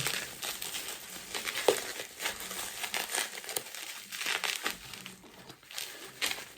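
A gift package is unwrapped up close, its paper crinkling and rustling in uneven bursts with occasional crisp tearing sounds and no speech.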